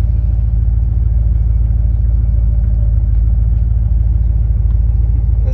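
A Chevy S10 pickup with a custom exhaust and a high-stall converter on a stock motor, a loud, steady low rumble of the engine pulsing at idle with no voices over it.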